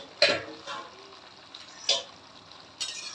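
Goat head meat and lungs are stirred in a cooking pan, giving wet sizzling scrapes in three or four distinct strokes over a low frying hiss.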